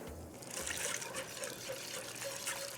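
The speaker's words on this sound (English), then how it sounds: "now I'm gonna add the milk" Milk poured into a bubbling roux makes a faint, steady trickle and splash that runs on without a break.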